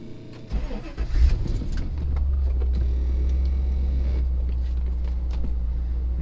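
A car engine catches with a rough, loud rumble inside the cabin and then settles into a steady, low idle that holds for several seconds at the start of a test drive after a gearbox repair.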